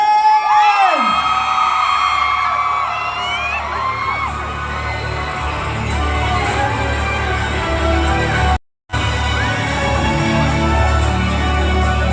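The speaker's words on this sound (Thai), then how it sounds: "ปรบมือและกรี๊ดมาอีกสักครั้ง ได้ไหมอ่ะ" A large crowd at a Thai dubbing gala for How to Train Your Dragon cheers, shrieks and whoops loudly and continuously, the roar dropping out for a moment near the end, with a voice heard over it.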